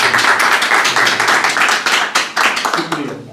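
Audience clapping fills a mushaira poetry gathering in Harlesden, London, a dense, sustained patter of many hands at close range that swells and then fades toward the end, with voices mixed in.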